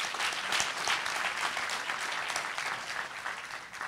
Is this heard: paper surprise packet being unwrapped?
no